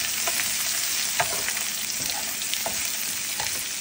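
Onions fry in a hot pan for cauliflower fried rice, giving a steady crackling sizzle with occasional stirring clinks, close and fairly quiet, with no voices.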